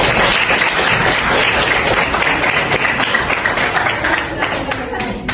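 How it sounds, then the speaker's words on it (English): A classroom of students claps in a school lesson, giving loud, close, continuous applause that tapers off slightly toward the end. "Give applause for Asa, please."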